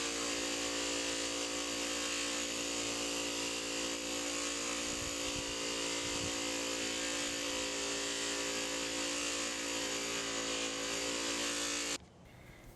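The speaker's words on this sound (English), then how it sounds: "I'll be using the white buffing compound with a coarse wheel, and then the green buffing compound with a softer wheel" Buffing wheel spinning against a knife handle made from a file, with white or green buffing compound, a steady loud high whine and hum that cuts off abruptly near the end.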